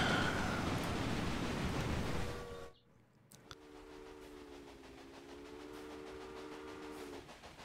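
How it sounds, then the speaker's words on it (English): Trains leaving in the Railway Empire video game rumble loudly for a couple of seconds, then the sound cuts out and gives way to a quieter, steady rolling hum with a faint tone. "that's another lot of trains leaving"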